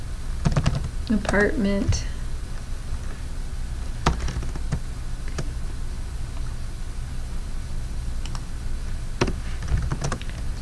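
Scattered keystrokes on a computer keyboard as an address is typed, sparse clicks spread across the clip with a person speaking briefly near the start over steady background hiss.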